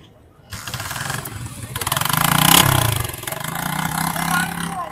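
Motorcycle engine at the Hyderi used bike market in Karachi starts and runs loud and close, rising in a rev around the middle and then settling into a rough, throbbing idle.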